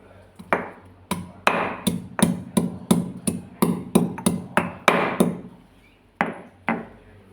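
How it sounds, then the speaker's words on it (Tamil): A piece of ginger pounded in a mortar for masala tea, giving a quick series of sharp, close thuds in a steady rhythm, then a pause and a few final strikes. "இனி ஒரு துண்டு இஞ்சியும் கூட போட்டு இடித்து எடுத்துடலாம்."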